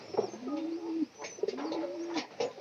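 Pigeons coo at dawn in the summer season, two soft drawn-out coos in a slow repeating rhythm, close by and moderately quiet, with light rustling between them.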